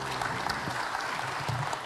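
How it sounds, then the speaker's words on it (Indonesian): Audience at a capital market investor conference breaks into renewed applause, a dense steady clatter of many hands, fairly close and even, with a few louder individual claps standing out and no speech over it. "Boleh tepuk tangan lagi, jangan ragu-ragu."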